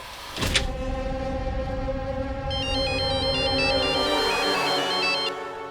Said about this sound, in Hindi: आपके फोन से मेरे फोन पे फिर से कॉल आ रहा है